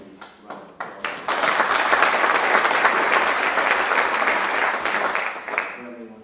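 At a Hall of Fame induction ceremony, a few scattered claps build quickly into sustained applause from a sizable crowd, holding steady before tapering off as a voice begins.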